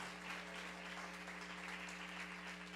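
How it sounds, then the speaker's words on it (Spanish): Spanish-speaking church congregation applauds during a sermon, a dense, even wash of clapping held steady over a low electrical hum throughout. "Denle por favor un aplauso al Señor."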